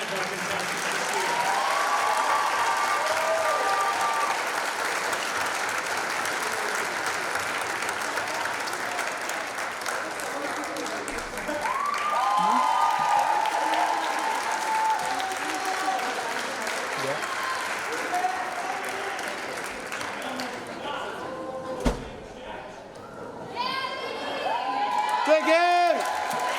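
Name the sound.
audience applause for pageant contestants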